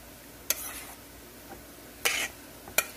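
A spoon clinks against a bowl while ingredients are mixed for a Philly cheese steak and cilantro lime nacho platter, three or four brief scraping taps spaced apart in a quiet kitchen.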